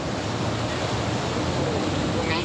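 Water gushes in a steady, loud, unbroken rush from a burst water main on a street near a viaduct in the Dois Irmãos neighbourhood, with no pauses.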